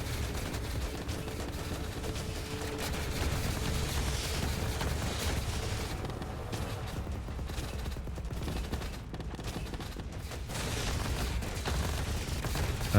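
Giant cannons and massed guns fire in a battle of the RTS roguelite game Rogue Command, a dense, unbroken barrage of blasts and rattling shots with no voices.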